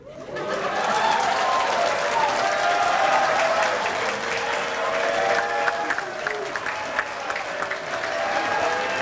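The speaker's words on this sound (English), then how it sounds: "You don't have to clap that hard for me." An audience at a 2017 EMCC football team event gives loud, sustained applause and cheering with scattered laughter and voices mixed in, lasting throughout.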